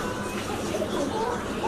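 A pair of white Baghdadi homer pigeons cooing softly amid a steady, busy pigeon-loft background murmur of other birds, continuous for under two seconds.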